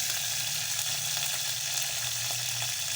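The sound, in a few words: green chillies frying in hot oil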